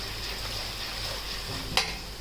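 Poha chiwda tempering with peanuts and dal being stir-fried in a pan, a steady hiss of sizzling oil with soft scraping of the stirring spoon and one sharp clink near the end.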